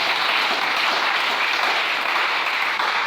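A church congregation applauds to acclaim the Lord, a steady, full wash of clapping that holds evenly throughout.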